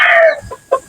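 A conditioned fighting rooster gives a loud, close crow that breaks into a couple of short clucks, a brief burst with no talking.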